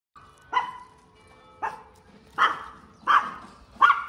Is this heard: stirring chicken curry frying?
no